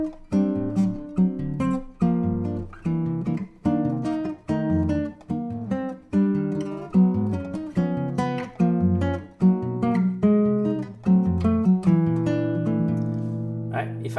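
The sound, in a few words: guitar playing samba groove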